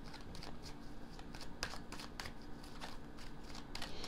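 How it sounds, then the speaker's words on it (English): Tarot cards are drawn and handled in a steady stream of crisp papery flicks and slides, close up and fairly quiet, with no voice over them. "So let's open more cards out here."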